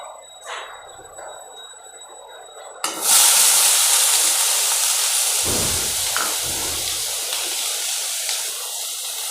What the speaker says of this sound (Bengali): কড়াইতে অল্প তেল দিয়ে দিয়েছি। আমি আলুটা ভেজে নেব।